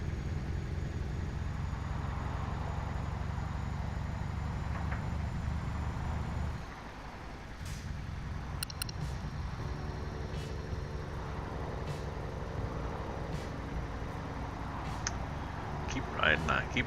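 A simulated truck engine in Euro Truck Simulator 2 drones steadily at low pitch, dropping after a few seconds to a quieter idle-like hum, with someone talking over it and small clicks scattered throughout.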